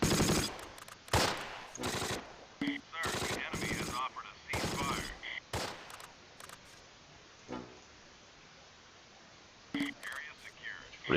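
Gunfire in the World War II strategy game Close Combat: Last Stand Arnhem, loud bursts of machine-gun fire and single rifle shots in clusters, separated by quieter gaps with distant pops.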